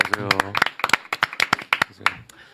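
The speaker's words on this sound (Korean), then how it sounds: "박수로 모시겠습니다" Several people clap to welcome a reporter as a guest in a broadcast studio, with sharp separate claps at an uneven rhythm, close and fairly loud, and talk heard between them.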